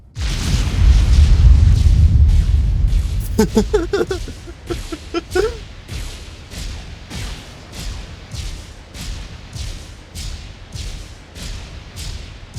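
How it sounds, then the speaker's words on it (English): A deep, rumbling explosion in a spaceship-building video game, followed by a series of sharper synthetic blasts and pops, then rhythmic booming pulses fading in intensity. "More explosions."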